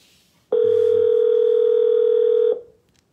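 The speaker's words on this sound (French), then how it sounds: "On va essayer de l'appeler pour voir." A single steady telephone tone sounds loud and close for about two seconds while a phone call is being placed, then cuts off abruptly, with quiet room noise before and after.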